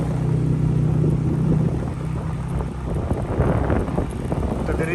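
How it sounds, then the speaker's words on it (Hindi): Gusty wind buffets the microphone in low, uneven roaring surges during a motorbike ride toward Skardu, mixed with a faint engine-like drone. "और हवा का शोर आप सुन सकते हैं।"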